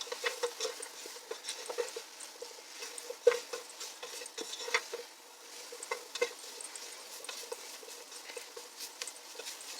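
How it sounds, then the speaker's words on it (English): Mushrooms cooking over low heat in a pot for a beef stew, a quiet, crackly patter of sizzling with scattered light clicks and stirring taps, close but soft, no voices. "I'm just going to cook this for about 2 minutes and let the mushrooms get a little bit of color"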